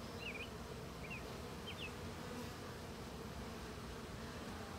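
Honeybees buzz in a steady, dense drone, with a few faint bird chirps briefly rising above the hum near the start.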